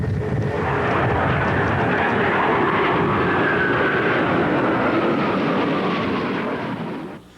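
Military aircraft from several service branches flying overhead in a tribute flypast over San Francisco Bay, a loud roaring engine wash that swells and holds for several seconds, then drops away as the planes pass.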